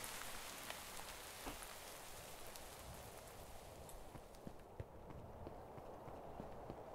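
Rain falls in Minecraft, a soft, quiet continuous patter with scattered droplet ticks that thins out toward the end, with no speech.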